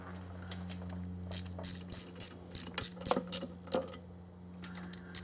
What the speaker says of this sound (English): we're just getting these lightly torqued